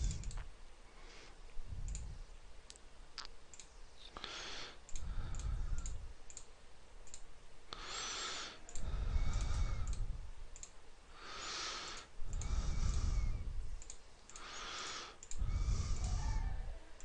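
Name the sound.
button clicks typing data into a graphing calculator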